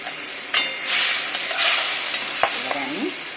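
Chopped tomato sizzles and hisses in a hot pan for a thin snakehead (shol) fish curry with coriander, a steady close frying crackle with a few sharp spatters and stirring scrapes.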